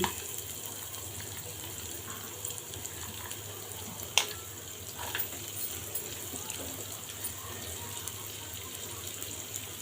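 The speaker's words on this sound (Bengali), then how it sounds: "পেঁয়াজ কুচি দিয়ে দিলাম" Chopped onion fries in hot oil, giving a steady broadband hiss and sizzle throughout, with one sharp clink partway through and no talking.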